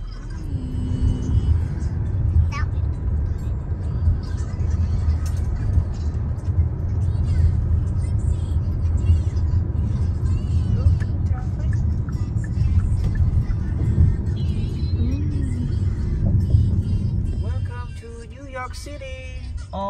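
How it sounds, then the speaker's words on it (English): Car traffic on a highway heading to New York City, a loud steady low road rumble heard from inside a moving vehicle, with faint voices now and then and a drop in level near the end. "Traffic start to build up now."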